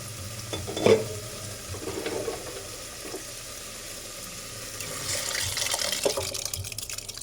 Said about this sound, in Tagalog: lalagay ko na yung pinakuluan natin na munggo guys